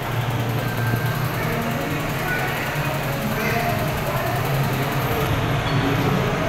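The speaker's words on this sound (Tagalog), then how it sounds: "Ito ang train ng SM Bacoor, Habay. For small kids." A small kids' ride train at SM Bacoor mall rolls along under a dense wash of mall crowd noise, a steady low mechanical rumble with no distinct horn or bell.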